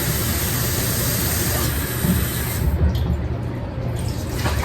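Tap water gushes into a cooking pot at a kitchen sink, filling it for boiling spaghetti; a steady, close rushing flow runs the whole time with a slight shift midway, and no one speaks.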